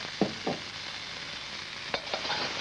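Finely chopped ginger and spring onions stir-frying in a wok, a steady sizzle broken by a few sharp scraping stirs of the spatula, close and fairly loud, with no talking.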